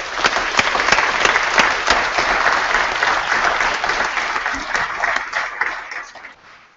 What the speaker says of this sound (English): hold your collective applause till we complete the announcement